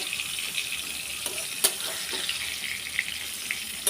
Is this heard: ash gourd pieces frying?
yes